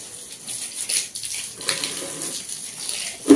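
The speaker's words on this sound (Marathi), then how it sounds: "आणि सोबतच झाडाला सुद्धा पाणी घालायचं आहे।" Water splashes and gushes unevenly as it is poured onto a plant nearby, with a louder splash at the end.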